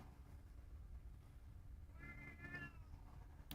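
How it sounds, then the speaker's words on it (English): A house cat meows quietly a few times over a steady low background hum, with no talk. "and that's my cat."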